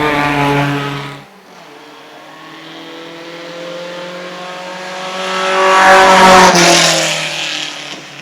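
Alfa Romeo race cars tear past at an Italian marque race, one engine note fading out before a second car swells in loud and close, revving hard as it passes and then recedes.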